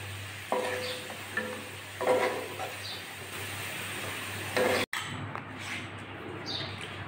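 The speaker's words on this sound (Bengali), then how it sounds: "আলুগুলো আমি লাল লাল করে ভেজে নিয়েছি, এখন আমি তুলে নিচ্ছি একটা প্লেটে তেল ঝরিয়ে" Potatoes fried reddish-brown in oil are lifted out onto a plate to drain, with scattered clinks and scrapes of a utensil over a soft sizzle and a steady low hum.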